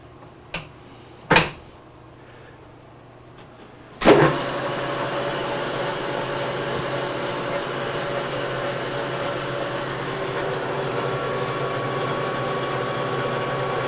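A machine spins a spline part ahead of brazing, starting after a few sharp clunks and then running as a steady, fairly loud motor hum with a droning whine that holds to the end, with no talking.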